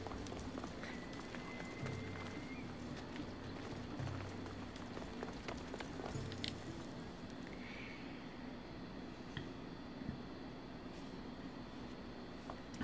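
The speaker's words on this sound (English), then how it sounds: "Okay, I could hear your footsteps." Footsteps of a character walking in Assassin's Creed Odyssey, a steady run of soft treads over a busy game ambience with hoof-like clopping and background bustle.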